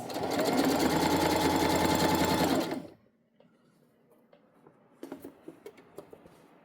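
A sewing machine runs fast and steady for about three seconds while stitching tote bag fabric, then stops abruptly, followed by quiet handling noises and a few light clicks as pins are pulled.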